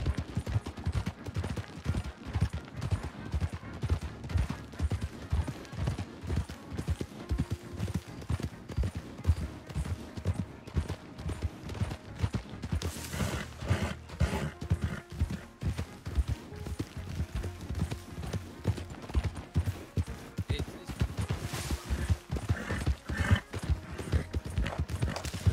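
Hooves of galloping horses in the video game Red Dead Redemption 2 on a WildRP server, a rapid continuous clip-clop that runs throughout at moderate volume, with occasional whinnies and a few distant gunshots.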